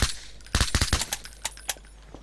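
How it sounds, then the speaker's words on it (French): A silenced gun fires in Garry's Mod in a rapid burst of sharp, clipped pops. The shots come close together at first, then spread into a few scattered shots, with no talk. "Et donc, c'est avec un silencieux."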